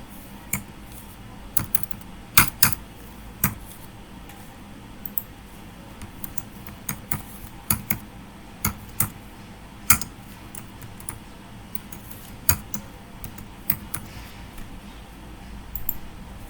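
Keys on a computer keyboard clatter in short, irregular bursts as database records are added to a SQL Server table, crisp close clicks with pauses between entries.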